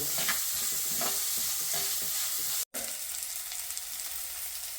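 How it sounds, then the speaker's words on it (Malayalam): Garlic and crushed ginger fry in a pan for a Kerala coconut-milk fish curry, giving a steady, close sizzle with occasional stirring scrapes and a brief cut partway through. "വെളുത്തുള്ളി ഇത്ര ഇട്ട് കൊടുത്ത് പതുക്കെ ഒന്ന് വഴണ്ട് വരട്ടെ കേട്ടോ"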